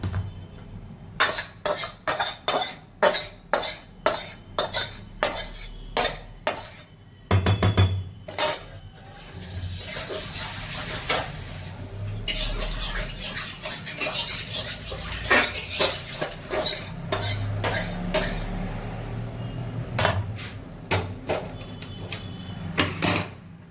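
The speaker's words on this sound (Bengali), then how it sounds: "এই গরম গরম একদম মাছ ভাজা হচ্ছে" Small fish frying in a hot pan while a metal utensil stirs them, producing a quick run of sharp clinks and scrapes against the pan over a steady sizzling hiss, with no talking.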